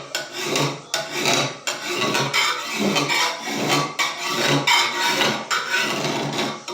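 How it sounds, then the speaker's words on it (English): An old Burley rasp files along the edge of a garden hoe in steady, close back-and-forth strokes, about eight rasping passes with a rough metallic scrape, heard alone without talk. "I'll come in here and I'll sharpen that hoe up a bit."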